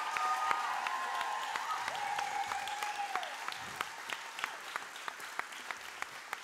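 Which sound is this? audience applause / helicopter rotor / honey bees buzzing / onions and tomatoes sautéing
audience applause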